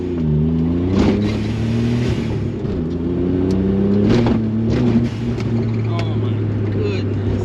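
A Suzuki Alto Works small car drives through traffic, its engine climbing and dropping in pitch through rev changes, loud and close inside the cabin, with some talking over it.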